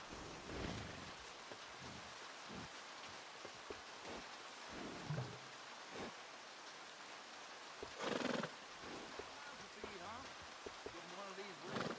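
A horse in a video game neighs and whinnies a few times over steady rain, with occasional hoof clops and splashes; a voice speaks briefly in the background.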